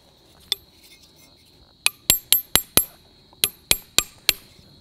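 Metal hammer strikes on the L-shaped steel anchor stake of a Coleman pack-away lantern stand, driven into the ground: one early tap, then a quick run of five sharp ringing blows and four more, close and loud.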